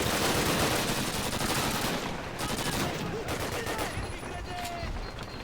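Dense, continuous gunfire in Call of Duty: United Offensive, rapid overlapping automatic shots and bursts forming a loud steady roar throughout, with voices faintly talking beneath.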